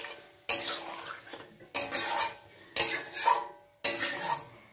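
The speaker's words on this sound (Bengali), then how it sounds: "হালকা হাতে নাড়তে হবে, কারণ বোয়াল মাছ ভেঙে যেতে পারে" Boal fish being gently turned in a pan, four distinct scraping stir strokes of utensil against metal at a slow, even pace, each followed by a soft sizzling tail, close and fairly quiet, no speech.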